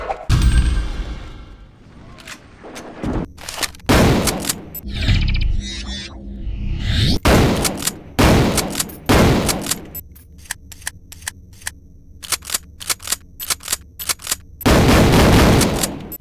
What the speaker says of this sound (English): The shotgun here looks very basic but packs a decent punch